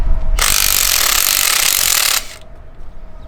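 A power tool with a 13 mm socket rattles and buzzes loudly for about two seconds while loosening a nut on a MacDon FD2 Series header bracket, then stops.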